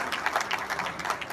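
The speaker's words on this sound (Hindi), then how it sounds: "इस पर जोरदार तालियां बजाएं" Applause at a homeopathy lecture for doctors, a dense wash of many hands clapping steadily throughout, moderately loud and without talk.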